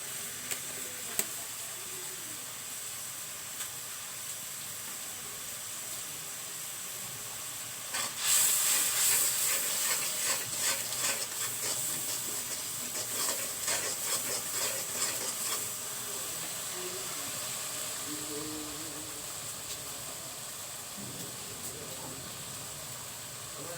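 Chicken roast with spice powder cooking in a pan, a faint steady sizzle that jumps to a louder hiss and crackle midway as ingredients hit the pan, then settles into a continuous sizzle.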